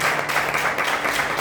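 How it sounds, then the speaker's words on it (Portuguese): A church congregation applauds, a dense steady wash of clapping that is moderately loud and sustained throughout. "Aplauda o Senhor Jesus"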